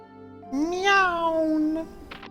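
A cat meows in the video game Trails in the Sky: one drawn-out, rising then falling meow, close and clear, followed by a brief rustling patter near the end.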